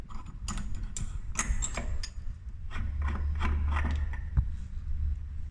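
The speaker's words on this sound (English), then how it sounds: "Using a 22mm tube socket, feed it over through and slowly undo your diverter button." A 22mm tube socket turns to slowly undo a shower mixer diverter button, giving a series of faint metallic clicks and ratcheting ticks against a low background hum.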